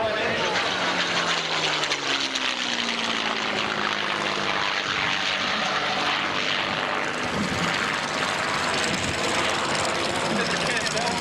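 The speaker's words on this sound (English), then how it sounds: "Merlin engine." A Merlin-engined airplane taxis at the 1995 Valiant Air Command air show, its propeller engine droning steadily and loudly throughout with a slowly shifting pitch, while a commentator talks over it.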